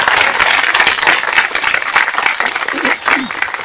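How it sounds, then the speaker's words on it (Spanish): A crowd at an outdoor neighborhood political gathering in Manzanillo claps steadily, dense and loud, with voices mixed in throughout. "Un aplauso para Gaby, por favor."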